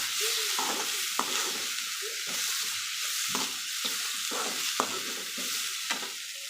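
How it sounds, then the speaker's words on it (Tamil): Chopped tomatoes sauté in a pan for a chickpea curry, a constant hissing fry punctuated by regular scraping stirs roughly every half second, close and moderately loud, with no voices. "மூணு தக்காளி கட் பண்ணி வச்சுருக்கேன் அதையும் இதிலேயே சேர்த்துக்கலாம் சேர்த்துட்டு நல்லா வணக்கிக்கலாம்"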